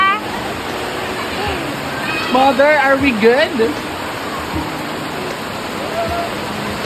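Heavy rain pours steadily in a dense, continuous roar, with voices talking briefly over it midway, as water leaks into a house.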